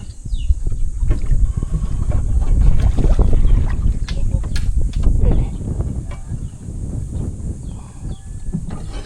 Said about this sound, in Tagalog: Mahirap to pag malakas ang hangin.